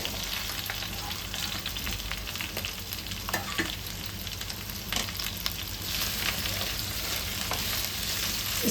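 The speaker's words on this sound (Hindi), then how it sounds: "अभी भिंडी डाल के इसको खाली 1 मिनट तक के ऐसे आप भूनना" Okra (bhindi) fries in a pan for a dahi bhindi dish, giving a steady crackling sizzle with occasional sharper pops and stirring scrapes, close and continuous with no talk.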